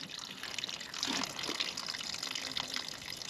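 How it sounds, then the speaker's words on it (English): Water gushes steadily from a broken tap on a campervan fresh water tank, a close, continuous splashing pour that swells slightly partway through, with no talk. "Can't stop the water from coming out."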